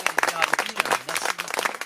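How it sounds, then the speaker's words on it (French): A concert crowd in Saint-Cézaire-sur-Siagne claps for the CCM girls, with close, ragged handclaps mixed with voices talking and calling out over the applause. "on pourrait aussi remercier très fort et applaudir les filles de CCM"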